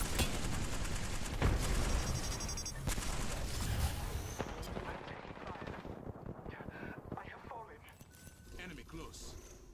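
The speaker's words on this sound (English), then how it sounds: "I'm taking fire, friends. They're firing on me." Gunfire and explosions from a PUBG match rumble through a dense battle mix of bursts and booms, heaviest at the start and thinning later, while voices talk over the action.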